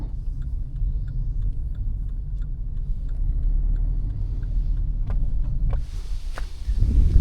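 Car driving through Fortrose, a village near Avoch in the Scottish Highlands, heard from inside as a steady, loud low road rumble with faint ticking, then a few sharper knocks and a rush of noise toward the end.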